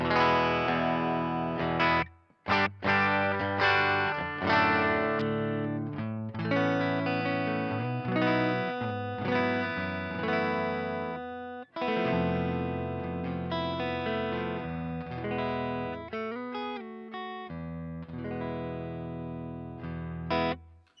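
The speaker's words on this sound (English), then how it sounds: "here is what the cabinet emulation, which I kind of use with parametric EQ and a bit of overdrive sounds from the MS3" An electric guitar plays a continuous riff and chord passage through a Boss MS3 with cabinet emulation, parametric EQ and mild overdrive. The tone is dense and slightly distorted, with a few brief pauses between phrases.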